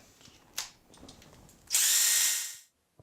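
A few faint taps, then a power drill with a brush attachment whirs for about a second scrubbing a porcelain toilet base before cutting off, with a high buzzing scrub.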